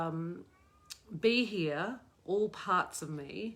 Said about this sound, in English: That's my cat that you can hear at the door.